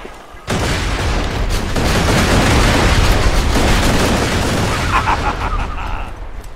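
Grenade explosions in Borderlands 2 hit with a sudden loud boom, followed by several seconds of dense, roaring blast noise and crackling gunfire before it fades.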